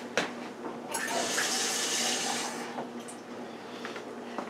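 Water poured from close by onto BBQ spare ribs wrapped in foil, a short steady splashing rush that fades into faint trickles and drips.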